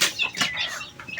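Gamefowl chickens cluck at feeding time, giving a few short, close clucks and squawks in a quick burst with no voices over them.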